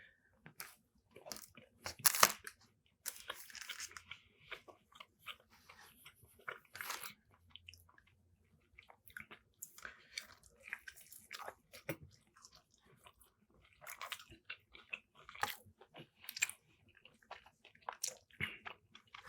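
Someone bites into a Subway cookie and chews, several crisp crunchy bites followed by soft close mastication and quiet pauses, with no talking.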